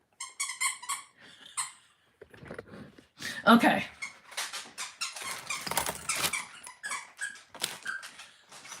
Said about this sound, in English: We're going to hear the squeaking for a little while.